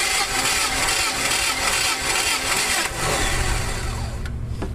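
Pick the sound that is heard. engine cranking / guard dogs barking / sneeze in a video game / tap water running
engine cranking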